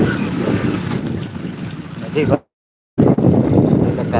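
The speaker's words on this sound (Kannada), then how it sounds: "ನದಿ ಇದೊಂಥರ ಚಿಕ್ಕ ನದಿ" A small river flowing outdoors gives a steady, loud broadband rush mixed with wind buffeting the microphone, broken by a brief complete dropout partway through.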